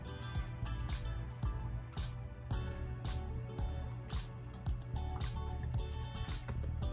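Hot-water dye mix is poured over shorts for home tie-dye, with repeated splashing pours, drips and trickles in close, uneven bursts.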